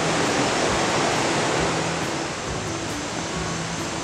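The Zacate river current flows near a ranch in Rincón Zacate, La Merced del Potrero, Oaxaca, a steady, even rushing of water that fills the scene without pause.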